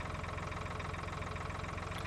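A tractor engine idles steadily in Farming Simulator 2013, a continuous even rumble with a fast regular pulse, no voices present.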